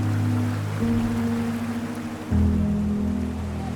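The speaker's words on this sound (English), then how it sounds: "following the sound of the river through the jungle" A river flows through a Sumatran jungle, a steady broadband rush of water that holds constant and close, swelling slightly louder near the end with no voices present.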